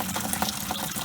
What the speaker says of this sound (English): I drain off the first sort of flush of sweet wort